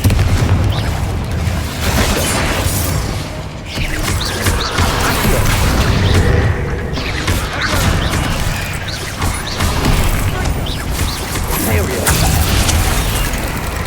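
Repeated fire-spell blasts from Confringo in the Hogwarts Legacy video game, booming bursts layered over dense, continuous combat noise and game effects throughout.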